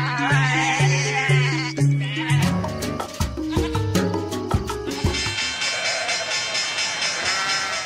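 A goat or lamb bleat hidden within a song, with a wavering bleat-like call heard against dense music with shifting instruments throughout.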